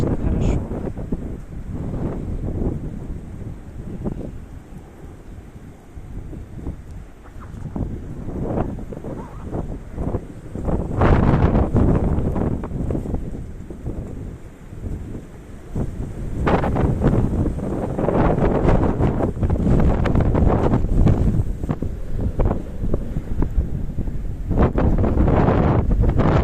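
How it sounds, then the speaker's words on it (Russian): Strong wind roars during an Arctic snowstorm in the far north above the Arctic Circle in Labytnangi, a constant buffeting rush battering the microphone in rising and falling gusts, loud and unbroken throughout. "Дует, конечно, хорошо."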